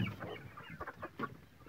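Chicks and hens on a small Romanian farm peep and cluck softly in a quick irregular patter, faint and close, with no talk.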